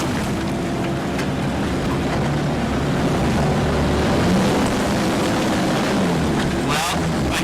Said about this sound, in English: We're going down a steep hill into the pond. We're floating.